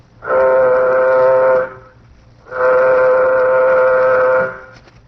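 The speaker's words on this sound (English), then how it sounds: "Sound warning signal." A spacecraft warning signal: two long, loud blaring horn blasts, each about a second and a half, separated by a short pause, with no voices.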